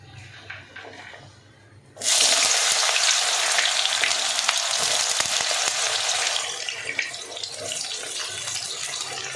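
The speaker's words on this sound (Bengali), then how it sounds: "তেলটা গরম হয়ে গেছে আমি তাহলে বেগুনটা ছেড়ে দিচ্ছি" Eggplant dropped into hot oil bursts into a loud, sudden sizzle after a quiet start, then keeps frying with a steady crackling hiss that eases slightly toward the end.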